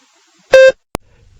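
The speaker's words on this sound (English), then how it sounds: "Begin speaking after the beep." A single short electronic beep, clear and close, followed by a brief click, then near silence.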